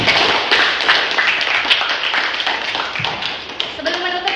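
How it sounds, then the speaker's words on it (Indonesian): A class claps together at the close of a lesson, a busy, fairly loud patter of many hands that gradually thins out, with voices emerging toward the end. "Beri tepuk tangan untuk kita semua."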